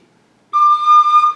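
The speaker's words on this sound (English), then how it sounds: "this is the sound of my recorder that I use in the lessons" Suzuki soprano recorder playing one clear, pure sustained note that begins after a short silence, close and fairly loud with no voices.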